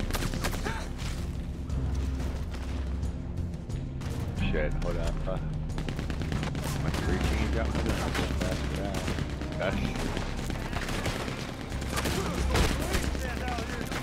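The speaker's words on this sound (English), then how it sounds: "they got a minigun" A minigun fires in sustained bursts during a Red Dead Online gunfight, a dense rapid rattle of gunfire over background game noise, with people talking at moments.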